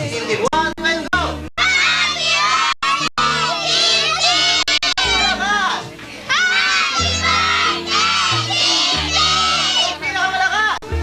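At a child's birthday party, a crowd of children shouts and cheers loudly in bursts, mixed with stomping and clapping, while an adult leads them over the noise.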